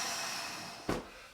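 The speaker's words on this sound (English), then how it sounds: "Big exhale." A short, sharp exhale during a strenuous exercise bursts out once near the end, close and breathy, over a steady hiss of background noise.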